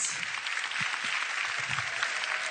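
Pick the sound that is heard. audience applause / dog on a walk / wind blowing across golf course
audience applause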